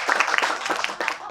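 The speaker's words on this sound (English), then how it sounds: "big round of applause for this." Brief, close applause from a small audience at a trading-coaching session, a quick burst of uneven hand claps lasting just over a second.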